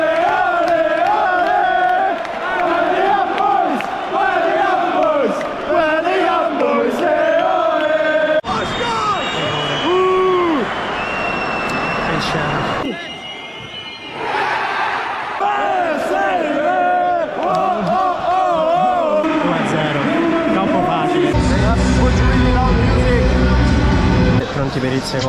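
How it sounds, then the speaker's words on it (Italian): Football stadium crowd at an Italian match chanting and cheering loudly and continuously, massed voices swelling and dipping with a brief lull midway, then surging again with heavy low rumble. "Pazzeschi questi tifosi."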